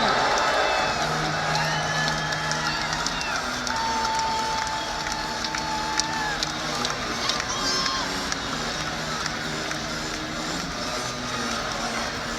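Crowd in Moody Coliseum cheering for the SMU Mustangs at a men's basketball game against Stanford, a steady roar of voices and whoops, with a commentator talking over it and scattered sneaker squeaks.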